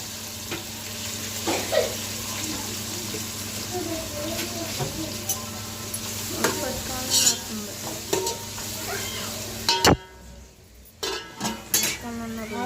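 Tomato pieces sizzle in a pot for chicken biryani while a metal spoon stirs and scrapes, clinking against the pan in irregular bursts over a steady low hum.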